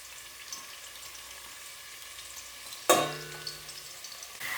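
Onion, ginger and garlic hitting hot oil in a pan, a sudden loud sizzle bursting in after quiet room tone and then settling into a softer steady crackle, with a second burst at the very end.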